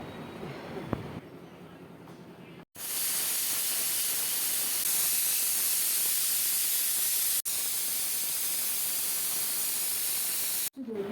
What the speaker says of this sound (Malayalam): കുക്കർ മൂടികൊണ്ട് അടച്ച ശേഷം വെയിറ്റ് ഇട്ട് മൂന്ന് വിസിൽ വരും വരെ വേവിച്ചതിന് ശേഷം തീ അണയ്ക്കുക